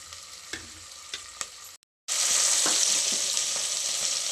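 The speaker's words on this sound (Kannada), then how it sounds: "ಚೆನ್ನಾಗಿ ಫ್ರೈ ಆಗುತ್ತೆ ಈರುಳ್ಳಿ, ಬೇಗ ಫ್ರೈ ಆಗುತ್ತೆ ಅಂತ ಹೇಳಿ ಈಗ ಉಪ್ಪು ಹಾಕಿದ್ದೀನಿ" Onions fry in oil with salt, a faint crackle and a few soft stirring taps at first, then after a brief gap a loud, steady close sizzle with occasional light scrapes.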